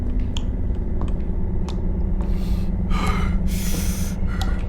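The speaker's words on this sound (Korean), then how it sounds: "아니 숨소리 들리잖아 저쪽에서" Heavy, uneven breaths and a sharp gasp in a horror video game over a low droning ambience, with a few faint clicks; no talking.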